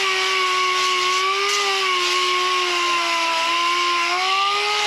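In a workshop where a truck chassis swap is underway, an air compressor runs steadily, a loud sustained mechanical drone with a clear whining tone that wavers slightly in pitch and plays alone without speech.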